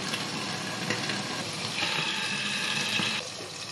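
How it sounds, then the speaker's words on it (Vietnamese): Eggplant fries in oil in a covered pan over high heat, giving a steady, dense sizzle that swells a little louder partway through and carries on without pause or voices. "Đậy nắp để chiên cho nâu."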